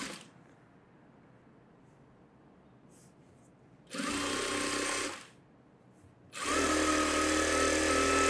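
A sewing machine stitches a blouse in two loud, close bursts of fast mechanical whirring, separated by quiet pauses with faint handling sounds and no talking.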